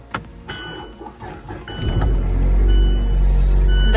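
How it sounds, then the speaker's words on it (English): A car engine cranks and struggles to start on a freezing cold winter morning, with brief clicks and whirring before a low, steady rumble builds and holds close by. "My car struggling to start in the morning."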